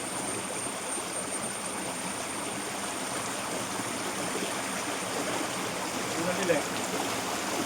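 Clear, clean stream water flowing steadily outdoors, a continuous even rush with no pauses, with a brief word spoken over it.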